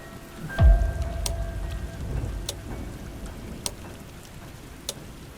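Steady rain falls alone, a soft continuous wash with scattered sharp drips and ticks, plus a brief low rumble near the start.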